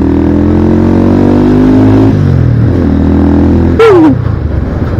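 A 2010 Yamaha Scorpio Z 225 motorcycle engine revs loud and close, its pitch climbing and dropping through a few gear-like steps before a sharp rising whine near the end.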